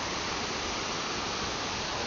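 A waterfall reached on a ride through Sunquist, heard as a steady, dense broadband roar of falling water that holds even and unbroken throughout, close and fairly loud, with no voices over it.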